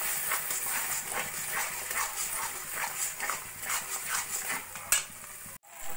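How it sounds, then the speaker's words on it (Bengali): Spice masala with salt, turmeric and Kashmiri chilli powder sautéing in a pan for new potato curry, giving a steady close sizzle with rhythmic stirring scrapes that end in a brief pause. "এবার ভালো করে মশলাটা আমি একটু কষিয়ে নেব"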